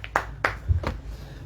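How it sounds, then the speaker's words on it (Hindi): Hands clap for the Lord at a church worship service: three sharp, separate claps in a slow, uneven rhythm, fairly close, over a low background murmur. "हम सब मिलकर के प्रभु के लिए जोर से तालियां बजा देंगे।"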